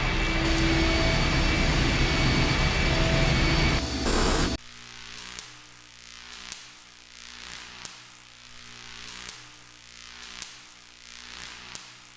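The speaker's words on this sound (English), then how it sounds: "The engine's starting up again." Engine starting up in the video game I Have No Mouth, and I Must Scream: a loud roaring burst cuts off abruptly, then settles into a quieter, rhythmic pulsing hum that throbs at a steady pace.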